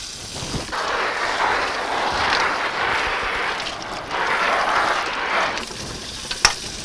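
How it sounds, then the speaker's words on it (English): Dense, steady hiss of simulated rain pouring and spattering onto Ducksback fabric, like heavy rain, continuous with a few brief surges and a light tap near the end. "Now we'll show you how it responds to rain."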